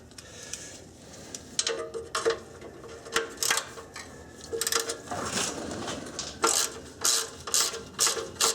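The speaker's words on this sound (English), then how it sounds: "See, I have to work the wrench on there." A ratchet wrench works a rusted exhaust mid-pipe bolt on a Honda Accord, clicking in short repeated bursts of metallic ratcheting with small pauses between strokes, close and moderately loud.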